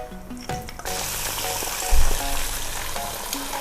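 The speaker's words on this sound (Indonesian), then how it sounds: "Sekarang kita goreng cekernya." Chicken feet coated in cornstarch frying in hot oil, a steady loud sizzle with a brief heavier burst partway through, no voices.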